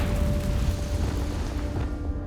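A Confringo blasting spell in Hogwarts Legacy erupts in a loud, rumbling explosion close by, a thick roar that fades slowly over a couple of seconds.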